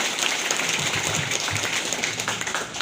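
An audience at a political rally and branch inauguration claps for several seconds, a dense steady patter of many hands with a few faint voices mixed in.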